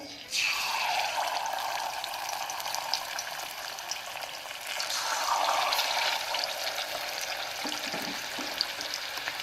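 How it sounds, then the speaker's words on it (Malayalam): Whole quail dropped into very hot oil for a biryani, setting off a loud, steady sizzle that swells again midway as more pieces go in. "നല്ല ചൂടുള്ള എണ്ണയിലോട്ടേക്ക് നമുക്ക് ഓരോ കാട ഇട്ട് കൊടുക്കാം."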